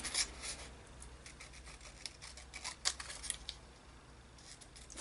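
Scissors snip through paper to cut handmade journal labels, giving faint, quiet clicks and slices scattered across a low background hiss, with no talking.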